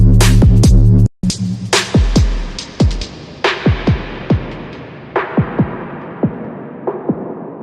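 Electronic music track outro with sparse, punchy percussive hits, each trailing into a spacious reverb tail, after a brief hard cut near the start; repeated hits at irregular intervals, clear and fairly loud, no talking.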